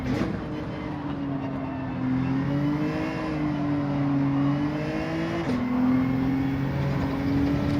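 Race cars in Gran Turismo 7 on the Dragon Trail Gardens circuit, including a Lamborghini Huracan: a steady, droning engine whine rising through the gears with shifts audible, fairly close and continuous.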